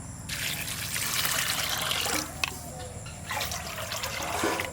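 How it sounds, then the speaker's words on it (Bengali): Water pours into a cooking pot, two bowlfuls measured out, in a steady splashing stream with short breaks between pours, close and fairly loud. "বাটির মাপ করেই 2 বাটি জল দেবো।"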